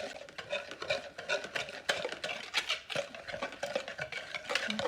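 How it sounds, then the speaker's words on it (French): Stirring a lemon juice mixture in a bowl for KFC-style chicken tenders, a soft, steady scraping and clinking of a utensil in quick irregular strokes, close and quiet. "On mélange."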